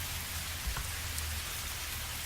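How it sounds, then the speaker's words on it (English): Rain pours down in a constant dense hiss of pattering drops, with a soft low thump briefly underneath. "against the patter of raindrops"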